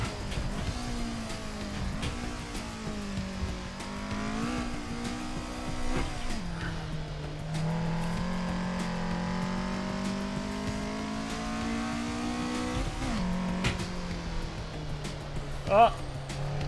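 Race car engine in the iRacing video game revving and droning through gear changes, with occasional tire squeal, while someone talks over it throughout.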